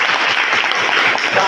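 An audience at a gathering of honorary teachers in Kabupaten Bogor claps steadily, a dense, loud and even applause that fills the whole moment.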